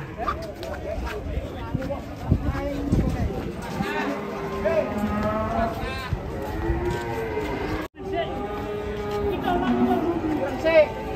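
A large cow is unloaded from a truck amid a noisy crowd, with lowing, hoof scuffs and thumps on the ramp mixed under constant shouting and chatter from several people nearby.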